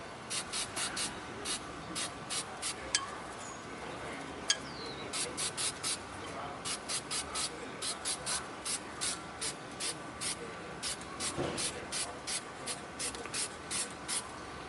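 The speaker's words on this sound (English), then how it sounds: "I just wanna give it a little, like a little spray here and there" Rapid short bursts of spray hiss onto a rusty car part in quick clusters, pausing briefly between groups, against a steady low background rumble.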